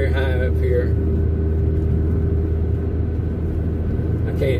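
An old car engine labors up a steep mountain road grade in Alaska, a loud continuous droning rumble with steady low tone, held close and even throughout.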